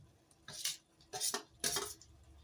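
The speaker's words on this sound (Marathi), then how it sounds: "बघा आता परतून घेते." Prawns are stirred and sautéed in a pan for a Malvani prawn curry with cashews, giving three distinct scraping stirs of a utensil against the pan over a faint background, quiet and close.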